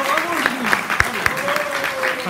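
Audience applause at an oratory contest: dense clapping for a couple of seconds, with a voice speaking over it.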